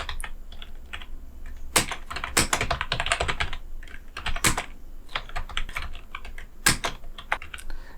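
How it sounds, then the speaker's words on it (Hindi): Fingers type on a computer keyboard while writing a question into an MS Word document, a close run of uneven key clicks with a few heavier strikes, no voices. "अब हम नंबर 1 पे हम एक क्वेश्चन टाइप करते हैं"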